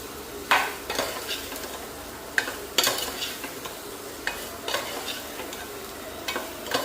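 Spices sautéing in a little hot oil for a village-style spiced vegetable dish, a continuous sizzling hiss broken by repeated spoon scrapes and stirring clinks at irregular intervals, close by and with no talk.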